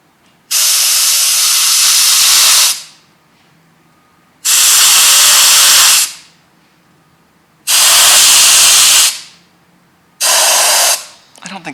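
An air compressor nozzle blowing air in four loud, close hissing bursts of about two seconds each, separated by short quiet gaps.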